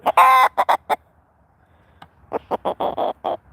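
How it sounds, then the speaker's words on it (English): A rooster and chickens on a small farm that also keeps goats, with a loud burst of crowing followed by several short clucks, then a run of six rhythmic clucking calls close by. "Really, rooster."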